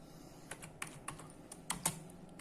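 Keys tapped on a computer keyboard while entering a folder name, a handful of soft, irregular clicks spaced apart, close and quiet with no talk.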